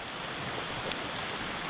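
A steady, even wash of rain in a forest camp near a hut, a soft continuous hiss without distinct drops or voices.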